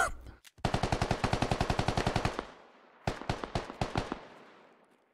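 A military shooter video game's automatic gunfire: a long, rapid, evenly paced burst of loud shots, a brief pause, then a shorter, more ragged burst of several shots.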